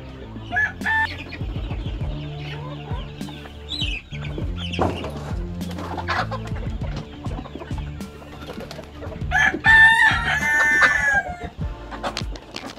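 Village chickens cluck busily while being fed azolla, with a rooster crowing loudly partway through; repeated close clucks and squawks overlap in an irregular farmyard chorus with no talk.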